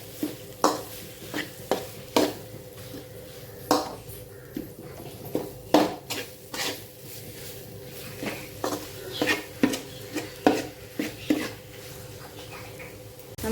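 A spoon scrapes and stirs beef samosa filling in a pan, a steady rhythm of close metallic scrapes and clinks over a faint sizzle, with no talking heard.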